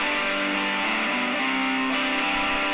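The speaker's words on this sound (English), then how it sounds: "So this is how this guitar sounds with the reverb." Electric guitar with reverb added, sounding a dense, sustained distorted chord texture with a lingering wash, played alone at steady, fairly loud level.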